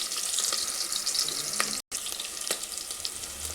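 Ginger-garlic paste fries in a pan for a chicken sambar, a close, even sizzle with a few crackles and spatters, broken by a split-second gap, no talking.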